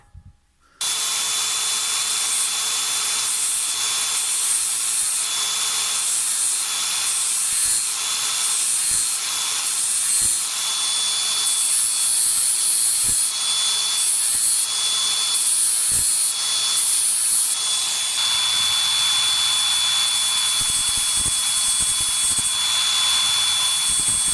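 An angle grinder sharpens the teeth of a hedge trimmer blade, kicking in abruptly and holding a loud, continuous high-pitched grinding whine for over twenty seconds.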